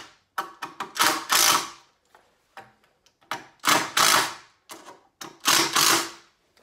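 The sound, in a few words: driving screws into a wood framing board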